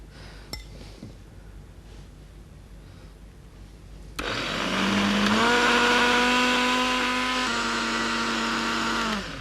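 An electric mixer grinder starts abruptly partway through and grinds chutney ingredients with lemon juice and salt. Its loud, steady motor whine holds close and continuous after a quiet stretch with a few light clinks.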